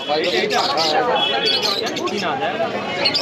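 Busy chatter with many voices at the Santipur pigeon market, mixed with birds calling and soft cooing of pigeons close by.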